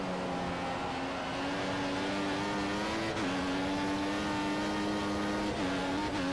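A Formula 1 car screams at high revs through a race at Austria in F1 2014, with steady engine harmonics that dip briefly on gear shifts around the middle and near the end, loud and continuous with no talk.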